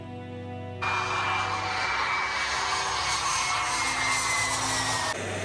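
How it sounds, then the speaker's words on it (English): An F-22 Raptor fighter jet lands at Fort Drum with a loud, steady roar and rushing whine that swells suddenly and holds for several seconds before easing slightly at the end. "The F-22 landing at Fort Drum"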